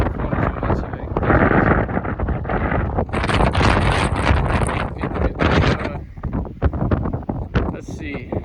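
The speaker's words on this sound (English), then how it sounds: "This could all just sound like wind right now." Strong wind buffets a microphone outdoors near Lucky Peak outside Boise, a loud, continuous rumbling roar that surges and dips throughout, with talking mixed in.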